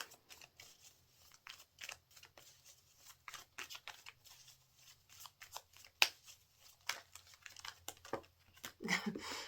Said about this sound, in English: The cards are going everywhere.